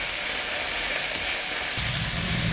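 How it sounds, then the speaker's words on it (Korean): Potatoes stir-fried over high heat in a pan, giving a steady, close, continuous sizzle that grows a little fuller toward the end, with no talk. "그러니까 끝까지 강불로 볶아주세요."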